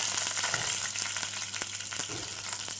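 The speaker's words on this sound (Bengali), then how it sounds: "এটাই চাটনিটার জন্য আমি একটা তড়কা তৈরি করছি।" Mustard seeds and curry leaves sizzle and crackle steadily in hot mustard oil for a tadka, a dense, close frying hiss with scattered sharp pops and no talking.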